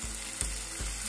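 Cauliflower being stirred into fried onions in a hot pan, a steady close sizzle with three soft scraping strokes of the spoon at even intervals.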